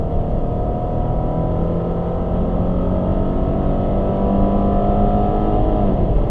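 A car engine, likely a drag car on its run, revs hard right up to the red line, a loud steady roar whose pitch climbs continuously over several seconds with no talk.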